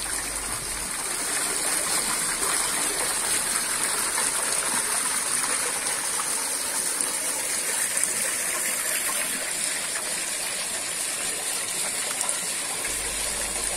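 Water pours steadily over a garden water wheel coupled to a homemade low-speed generator, a loud, continuous rushing and splashing that holds even from start to finish, close by with no voices.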